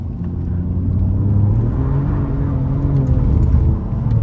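Alfa Romeo Giulia QV on the move, a loud, close engine drone that swells under acceleration and holds steady with some road whir, no talk.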